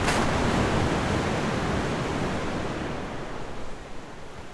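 Ocean surf washes against rocks in a point-and-click adventure game, a loud, steady broadband roar of crashing water that eases slightly toward the end, with no voices over it.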